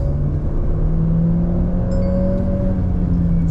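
A Mahindra XUV 700 accelerates hard in first gear during a 0 to 100 speed test, its engine rising in a loud, steady drone with a climbing whine heard from inside the cabin, and no one speaking.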